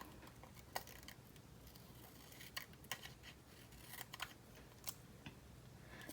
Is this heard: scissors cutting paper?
yes